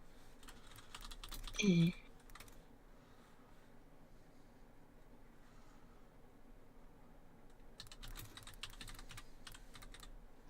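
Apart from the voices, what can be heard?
typing on a computer keyboard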